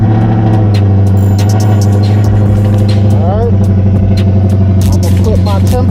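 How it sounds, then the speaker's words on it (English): A cammed 5.7L Hemi V8 in a Dodge Charger fires up and runs with a loud, steady lopey rumble, a brief rev rising partway through, close to the microphone with no talk over it. "All right, so like I said, I'm gonna start the car up."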